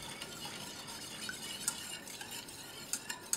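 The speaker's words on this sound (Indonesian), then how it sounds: "Aduk sampai gula larut dan merata." Doughnut batter of sugar, two tablespoons of cornstarch and an egg is stirred in a bowl, making a faint, steady scraping swish with a few light clinks of the utensil, close and quiet, with no talking.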